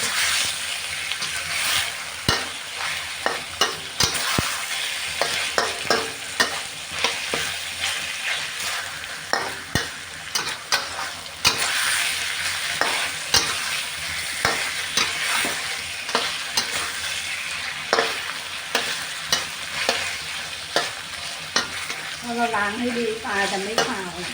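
Catfish sizzles loudly in a pan for a spicy Thai stir-fry, with steady frying hiss broken by frequent scraping and clattering stirs throughout.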